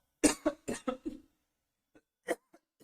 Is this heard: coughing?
yes